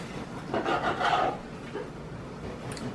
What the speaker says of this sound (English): Using a bread knife, of course, instead of a chef knife, which will have a tendency to squeeze and make the bread flatten.